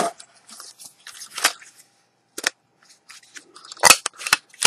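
A folding Think Outside Stowaway XTBT01 Bluetooth keyboard is pulled shut, giving a run of close, sharp plastic clicks and snaps spread across the moment, ending in a louder cluster of clacks.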